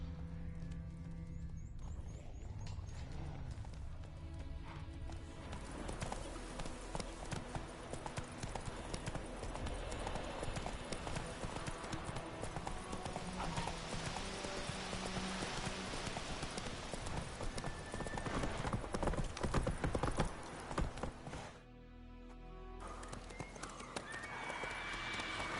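Roach, the horse in The Witcher 3, trots with rhythmic hoof clops amid rain and a busy game ambience, with a neigh standing out, all fairly quiet and continuous before a brief drop near the end.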